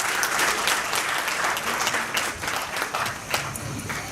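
Sustained, close applause from an audience at a geography conference session on the geography of circulation, a dense steady wash of clapping with no talk.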